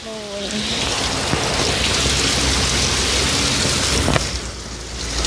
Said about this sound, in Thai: เรารู้ก็คือ ฝนตกนั่นเองนะคะ